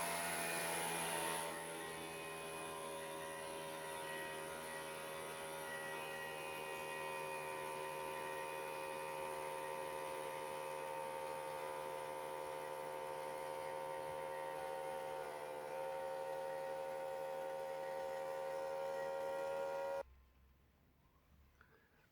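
A Schulz Pratic Air compressor runs with a steady, loud motor hum and a whine of stacked tones that hold constant for about twenty seconds, then cut off abruptly, leaving only faint room sound.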